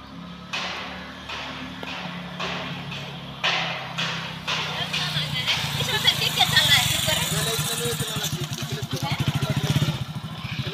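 A motorcycle carrying a family revs its engine, the throttle note climbing and pulsing steadily as it pulls away, with people talking loudly over the engine throughout.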